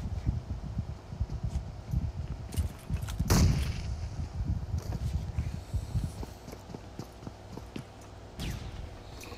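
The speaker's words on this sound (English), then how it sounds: "More Nades for Sinner" Grenades exploding and gunfire in a competitive team video game match, a burst of muffled thumps and pops with one bigger blast early, scattered impacts continuing at moderate distance.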